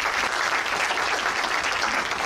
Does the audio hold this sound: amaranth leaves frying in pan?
no